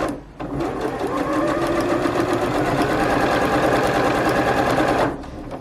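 A sewing machine stitches a straight seam of bunting in one continuous run of about five seconds, its fast rhythmic needle clatter close and steady from start to stop, with no talking over it.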